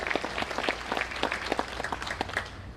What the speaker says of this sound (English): So if we can give them a round of applause real fast